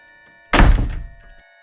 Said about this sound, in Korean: 이내 쾅 하고 방문 닫히는 소리가 났다.